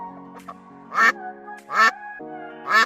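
Three loud, nasal duck quacks ring out one after another about a second apart, close and clear over a quiet background of faint musical tones.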